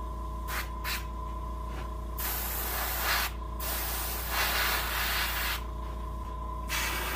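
Off-white paint is sprayed from an airbrush onto a fiberglass brown bullhead catfish taxidermy mold in short and long bursts of close, loud hissing. A compressor hum runs steadily underneath.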